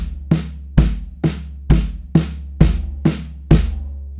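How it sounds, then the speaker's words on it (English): On a drum kit, the snare and floor tom are struck together as double stops over quarter-note bass drum hits, eight evenly spaced loud, booming strokes with ringing decay. "It's double stops, and you play the snare and the floor tom together."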